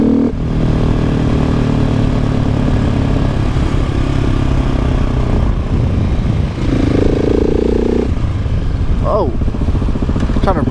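A supermoto motorcycle is ridden, its engine droning loud and close throughout with pitch shifts as the throttle rises and falls, and a brief rev change near the end.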